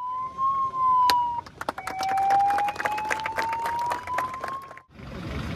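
A free ambulance's siren wailing with long rising and falling tones at a dedication ceremony, loud and close, mixed with crowd noise and rhythmic clapping or drumming, ending in a burst of broadband noise.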